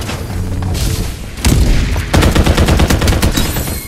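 Rapid gunfire from the video game Farlight 84, with dense, loud bursts of shots and booming impacts piling on top of one another, intensifying in the second half.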